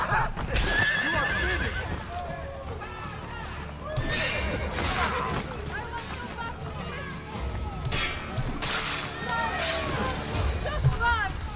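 In the video game Assassin's Creed Brotherhood, horses whinny repeatedly amid galloping hoofbeats and busy action noise during a horse attack, with voices talking over the commotion.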